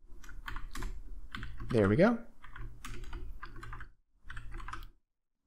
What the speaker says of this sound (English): you can hold Alt and hit down on your arrow keys to move that line down